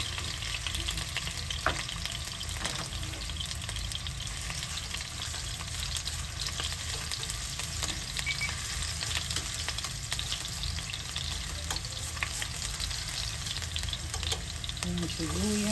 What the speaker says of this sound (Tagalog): Nagpainit na po ako ng mantika sa kawali. Lagyan na natin ang ating bawang.